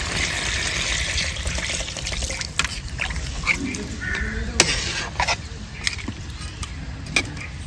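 Spiced water is poured into a cooking village-style desi chicken curry, making a steady trickling, bubbling wash with a few utensil clinks, close and moderately loud, while someone talks in the background.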